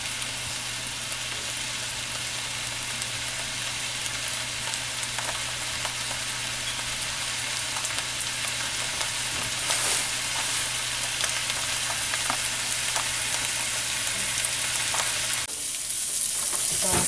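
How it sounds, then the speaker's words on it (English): Onions and garlic sautéing in a pan for a chicken cordon bleu dish give a steady, close, unbroken sizzle with small crackles throughout, with no talking. "So I'm sauteing my onions and my garlic"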